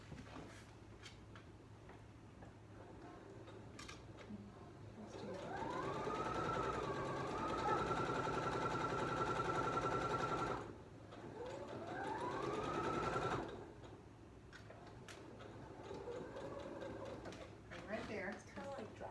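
Sewing machine stitching fabric in two sustained runs, the motor whirring up in pitch and holding, with a short pause between and quiet talk around it.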